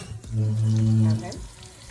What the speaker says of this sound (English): so about that much onions and green peppers. We're going to let that fry up for a little while first.